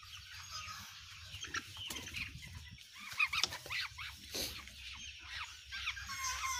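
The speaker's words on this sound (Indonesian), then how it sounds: "ini adalah ayam yang saya keluarkan tadi. Bisa didengar suaranya?" Soft, irregular clucking and chattering from a chicken with CRD nearby, with scattered rustles and faint background noise.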